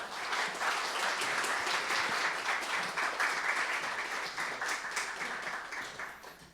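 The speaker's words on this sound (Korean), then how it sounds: "우리 마음을 담아 박수로 환영하겠습니다." A church congregation at a Sunday worship service applauds to welcome a visiting pastor, dense, even clapping that swells and holds for several seconds before fading out at the end.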